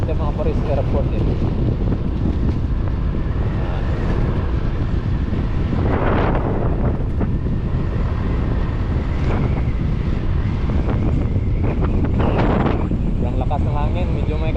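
Strong wind buffeting the microphone outdoors near an airport runway in rainy weather, a constant loud rumbling roar throughout, with someone talking at times beneath it.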